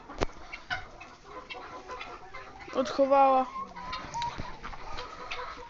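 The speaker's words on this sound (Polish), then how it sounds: "Takie to kury." Hens clucking and squawking in a busy coop with a rooster, with a louder burst of fowl calls partway through and someone talking briefly.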